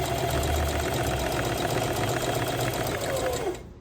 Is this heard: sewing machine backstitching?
yes